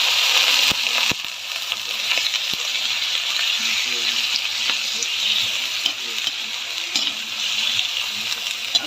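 Chicken pieces frying in a pan with onion for chicken tinola, a loud steady sizzle with stirring clinks and scrapes, close up throughout.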